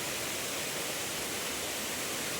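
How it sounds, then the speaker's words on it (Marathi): Waterfall at Dapoli plunging from a height, a steady broadband rush of falling and gurgling water that fills the scene without pause, with no voices. "एकदम शांत फक्त पाण्याचाच खळखळ खळखळ आवाज येतो आहे"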